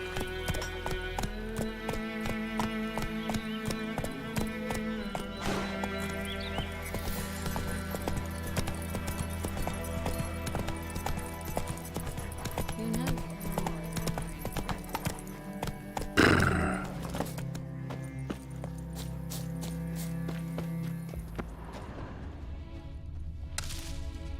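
Roach the horse in The Witcher 3 galloping with clip-clop hoofbeats and neighing, layered with game music and effects, a sharp crash-like burst midway before the hooves continue.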